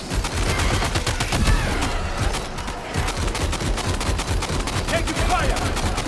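Sustained bursts of gunfire in the game Death Stranding 2, rapid repeated cracks forming a steady fusillade over a low rumble, fairly loud and continuous across the scene.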